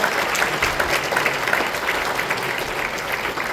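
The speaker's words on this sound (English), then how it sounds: "Round of applause." Sustained applause from an audience at an education talk on AI, a dense steady patter of many hands clapping at even loudness for the whole stretch, with no voices standing out.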